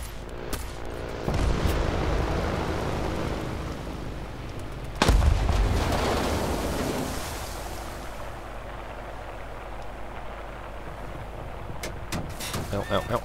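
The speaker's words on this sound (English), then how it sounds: "And now is when my guns decide they want to shoot into the sky." Naval gunfire from an Italian Navy ship in the War Thunder video game, with loud booming shots, a big blast near the middle and a steady rumble of engine and water noise throughout.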